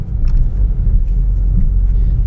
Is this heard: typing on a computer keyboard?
no